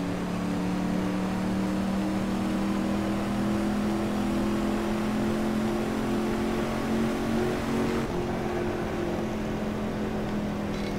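Steady engine drone from a racing video game played on a SteelSeries SRW-S1 steering wheel, its pitch holding and climbing slightly as the car runs the lap, loud and continuous with no talk, dropping off sharply near the end.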